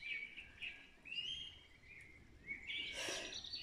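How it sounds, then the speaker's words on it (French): Birds sing outdoors, trading faint, high chirps and short trills in the background, with a brighter, busier burst of calls near the end. "Sans ça, je vais baisser le son des oiseaux."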